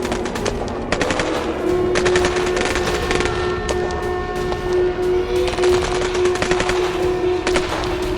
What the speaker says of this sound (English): German infantry fire rifles from a strong point as enemy troops make an offensive move